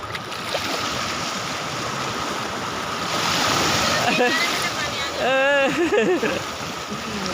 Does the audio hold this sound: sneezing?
no